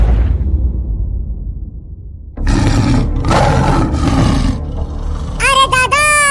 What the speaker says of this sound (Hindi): ये तो शेर की दहाड़ने की आवाज है।